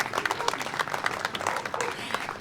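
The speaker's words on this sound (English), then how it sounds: "You can give a round of applause for that." Applause from the crowd at a Pride flag raising ceremony in Westfield fills the whole moment as a loud, close, continuous patter of many hands.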